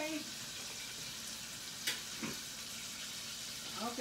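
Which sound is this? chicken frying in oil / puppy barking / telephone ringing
chicken frying in oil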